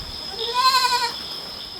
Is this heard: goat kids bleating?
yes